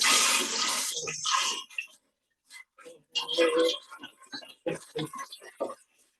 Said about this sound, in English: I'm gonna wash my hands a little here